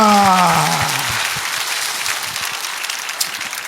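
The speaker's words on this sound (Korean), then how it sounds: "자, 우리 박수하겠습니다." A church congregation applauding, with a dense burst of clapping that starts loud over a fading musical tone and then thins gradually toward the end.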